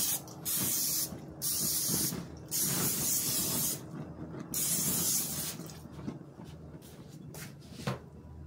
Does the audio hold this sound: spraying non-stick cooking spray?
yes